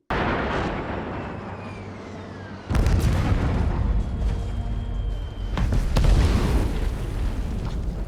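Military demolitions of bridges in a film scene: heavy blasts boom out in sudden bursts, two sharp impacts followed by a dense, rolling rumble that fills the air.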